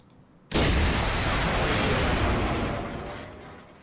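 A missile launch in the naval warfare game Command: Modern Operations bursts in with a sudden loud roar after half a second of quiet, then rushes on as a broad sustained blast that slowly fades.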